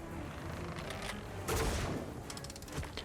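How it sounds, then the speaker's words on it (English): Captain Hook fires at the player in Epic Mickey Rebrushed with a thin shotgun built into his arm, producing dense, continuous bursts of game gunfire and booms over a busy background, with a heavier blast midway. "Try and just ignore Hook shooting at us."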